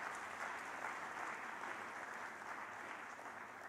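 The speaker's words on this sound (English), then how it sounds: "So I don't know whether that clap was to ask me to go off" Audience applause at an AI conference talk, a steady wash of many hands clapping that stays even and fairly distant throughout, with no voices over it.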